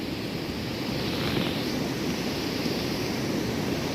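River water rushing steadily past during the rainy season in Konkan, a continuous broad wash of flowing water, even and fairly close, with no voices over it.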